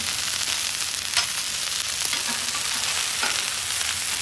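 An onion, its skin lightly oiled, chars on a hot griddle with a steady, close broadband sizzle throughout and a few faint clicks and knocks on top. No one speaks.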